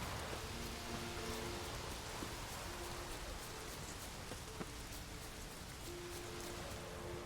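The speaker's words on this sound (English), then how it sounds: "Looks like rain." Steady rain falls in The Witcher 3 on the islands of Skellige, a soft continuous hiss with faint scattered drops and no voices.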